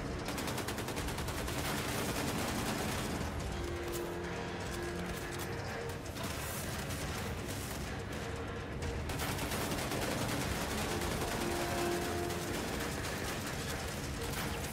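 Gunfire in Wolfenstein II aimed at a robot's legs: rapid, continuous bursts of shots layered with dense game noise, loud and unbroken throughout.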